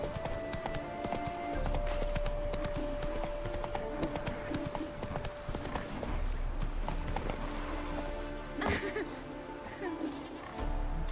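The hooves of Geralt's horse Roach in The Witcher 3 clop in a steady rhythm, close and clear, mixed with game ambience and a brief whinny, while someone talks over them.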